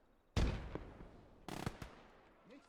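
Two grenade blasts from the World War II game Gates of Hell: Ostfront, sharp close booms about a second apart with decaying rumble, plus a smaller pop after the second.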